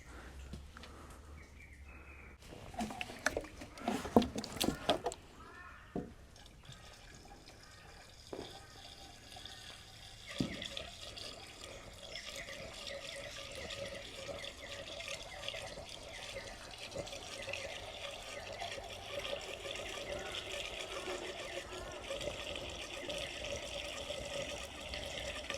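Water pours into the radiator of a 70-year-old Allis Chalmers road grader, a steady splashing, gurgling trickle after some clunks and handling noises at the start, filling continuously and fairly faint.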